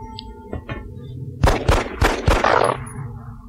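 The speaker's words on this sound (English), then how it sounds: "take the shot with your pistol" Pistol fire in the strategy game X-COM: Enemy Unknown, heard as a quick run of four or five sharp, loud reports over a low game hum, following a few softer clicks.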